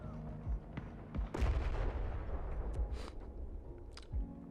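Bursts of gunfire from a shooter video game, several sharp shots and a heavier blast near the middle over a steady game background, with faint speech mixed in.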